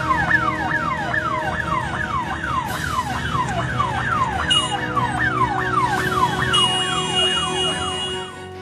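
An ambulance siren wails through a traffic jam on a city road, its rapid rising-and-falling sweep repeating loudly and continuously while sharp higher tones and horns cut in over the traffic rumble.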